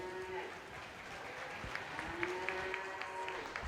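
Soft applause from the crowd at a market steer show, steady clapping heard from some distance with a few cattle lows and arena noise mixed in.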